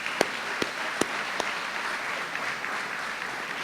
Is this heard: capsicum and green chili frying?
no